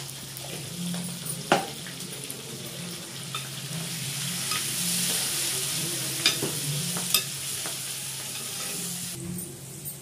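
Chopped onion and green chillies with turmeric sizzle in a pan for a Guntur-style stuffed brinjal curry, a steady frying hiss broken by a few sharp scraping stirs of a spoon.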